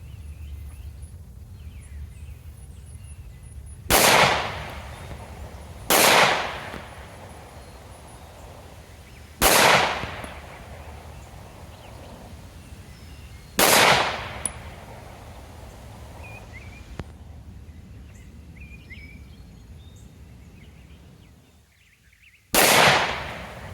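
Pistol shots with 115 grain rounds fired at a 15 yard target: five sharp, loud reports spaced a few seconds apart over a steady outdoor background hum.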